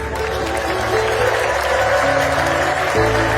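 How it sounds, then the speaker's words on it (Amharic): Church congregation applauding and ululating in praise of God, steady dense clapping close by with a sustained shrill ululation layered over it. "ጭብጨባው ይድመቅለት፣ እልልታ ይሁንለት።"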